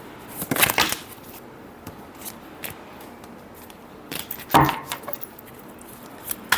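Tarot cards being shuffled nearby in a few short riffling bursts with quiet pauses between them, no voices.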